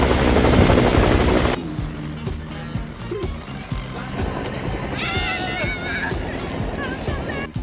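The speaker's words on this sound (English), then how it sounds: "Helicopters are so cool." A heli-skiing helicopter roars loudly up close with a heavy rotor thrum that eases off into a steady drone, while music and wind noise mix in.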